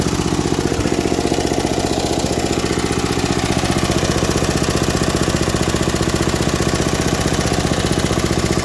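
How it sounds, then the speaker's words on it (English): A vintage MTD ride-on mower engine idles steadily and loudly up close, with a fast, even ticking clatter of lifters and tappets running through it for the whole stretch, no talking. "Tappets are a little ticky, but that's good, that means they're not tight. Lifters you can hear clacking a little bit."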